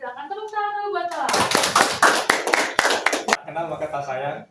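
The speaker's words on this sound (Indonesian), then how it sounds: "Tepuk tangan dulu buat Lam." Brief hand clapping at a seminar on deep learning with mobile technology, a burst of claps from a small audience lasting about two seconds, sandwiched between people talking before and after.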